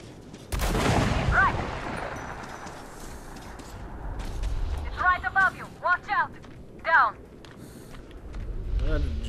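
Gunfire in the shooter game Metro Last Light: a heavy blast with a long rumbling tail opens, then several short bursts of shots follow later, while someone talks over the action.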